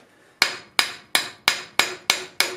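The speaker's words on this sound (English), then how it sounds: "I'm going to just continue to use that hammer to knock down this piece right along the edge" Seven sharp metallic hammer strikes knocking down a forged metal edge ring out at a steady, even pace, each one bright and decaying quickly, close and loud with no talking.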